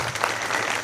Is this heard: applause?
yes